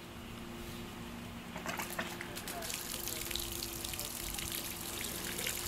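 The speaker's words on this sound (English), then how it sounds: "as you can see, the water does indeed spray" Water from a newly built garden fountain spraying over rocks, a steady hissing gush that swells after a couple of seconds and continues without pause, fairly close.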